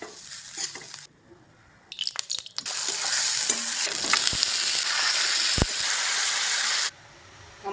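Onion, potato and poppy-seed posto frying and being stirred in a pan: a loud, steady sizzle with scraping stirs that runs for several seconds after a few clinks, then drops back to quieter background.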